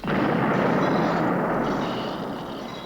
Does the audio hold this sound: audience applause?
no